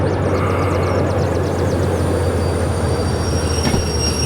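Diesel mechanical locomotive in the Derail Valley simulator game rolling along rails, a steady loud low engine drone with rumbling wheel noise and faint repeated clicks of track joints throughout, no voices.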